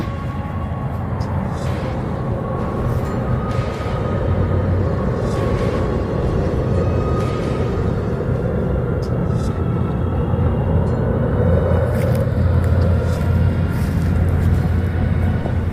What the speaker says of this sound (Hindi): ट्रैफिक चालू है